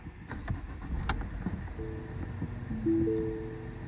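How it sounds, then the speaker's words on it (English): A Lincoln MKZ starting up after a clockspring replacement: a low engine rumble and cranking noise builds over a few seconds, with steady tonal hums emerging as it catches, close by and without speech. "I'm gonna turn on the car."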